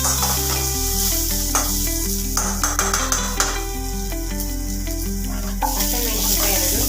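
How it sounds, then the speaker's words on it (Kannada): A quarter spoon of cumin seeds goes into hot oil in a pan with onion and garlic, giving a continuous crackling sizzle close up, with a few light pings and clinks, all beneath prominent background music. "1/4 ಸ್ಪೂನ್ ಅಷ್ಟು ಜೀರಿಗೆ ಹಾಕ್ತಾ ಇದ್ದೀನಿ."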